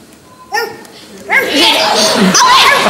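A man imitates a dog's bark on a TV quiz show, with a couple of short yelps followed by a longer, louder run of barking noises against studio background voices.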